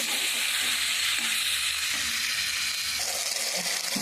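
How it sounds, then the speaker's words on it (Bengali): Masala spice paste sizzles and fries steadily in a hot pan while it is stirred, a loud continuous hiss with soft scraping of the spoon and no voices. "তাই একটু ভালো করে মশলাটাকে কষিয়ে নিতে হবে"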